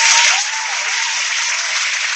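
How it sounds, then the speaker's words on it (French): Applause sound effect played during a live broadcast show, a loud, steady wash of clapping with no voices, slightly fuller at the very start. "je vais envoyer des applaudissements"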